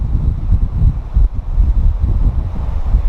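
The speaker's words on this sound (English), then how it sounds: "Kite surfers are enjoying themselves. They're loving this wind." Strong, steady wind buffets the microphone at a beach where kite surfers ride, a loud continuous low rumble with gusty swells and no talking.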